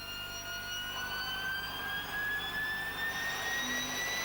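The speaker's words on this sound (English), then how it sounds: "This engine runs at the Turbo Machinery Laboratory of the ETH for educational purposes." A helicopter gas turbine engine of the kind fitted to the Alouette, running in a university turbomachinery laboratory, gives a steady loud roar with high whining tones that glide slowly upward throughout.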